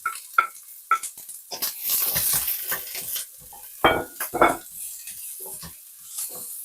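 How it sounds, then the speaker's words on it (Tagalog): Onion and garlic sauté in hot olive oil with a steady sizzle, broken by stirring scrapes and clinks of a utensil against the pan, a few louder bursts as the pan is worked. "Maggisa na tayo. Kunain ko na yung onion saka garlic."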